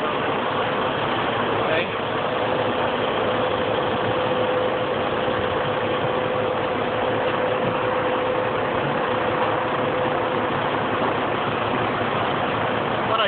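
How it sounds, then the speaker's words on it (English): A truck engine idles and rumbles steadily while the rig backs up to a trailer for a drop-and-hook, a constant low drone with a brief spoken word over it. "here's the trailer I'm backing up"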